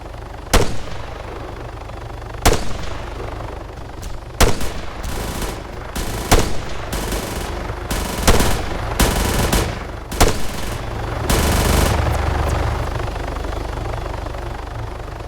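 Support rounds fired in the ArmA 3 video game come as a series of sharp, loud blasts and bursts of gunfire at irregular intervals, over a steady helicopter-like rotor drone, with no voices.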